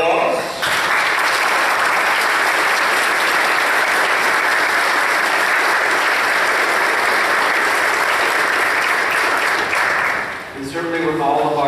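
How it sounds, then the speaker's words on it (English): A church congregation on Confirmation Sunday gives the new confirmands long, loud, steady applause lasting about ten seconds, then it fades and a voice begins speaking. "Shall we welcome them with our applause?"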